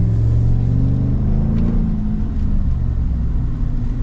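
A 2025 Chevy Silverado 1500 ZR2 with its 6.2 V8 and aftermarket exhaust revving: a loud, deep burbling engine note that rises briefly then settles into a steady rumbling idle, close up and with no talking.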